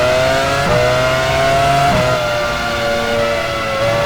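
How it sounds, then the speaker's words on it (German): An F1 race car in the 2002 Monaco Grand Prix in F1 Challenge 99-02 drives into the pit lane, its engine a loud, high, steady whine that shifts pitch a few times. "Sato fährt in die Boxengasse."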